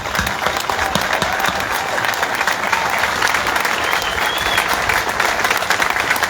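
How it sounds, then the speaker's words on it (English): A large crowd applauds steadily at the Run and Ride to Remember arrival ceremony on Parliament Hill in Ottawa, a dense, continuous round of clapping that holds loud and even throughout with no talk over it. "So I'll ask that you join me in a round of applause for all those that make this happen."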